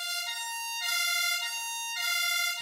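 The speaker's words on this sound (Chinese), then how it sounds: "救护车来了" An ambulance siren wails in a steady two-tone pattern, loud and clear, alternating pitch about every second, responding to a roadside tyre-explosion injury at a repair shop.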